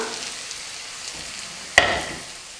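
Onions sautéing in a pan for potato masala: a soft, quiet sizzle broken by one sharp clink of a spoon against the pan partway through, with no talking.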